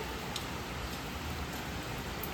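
Steady rain hisses evenly, a dense wash of drops falling nearby with no other sounds standing out.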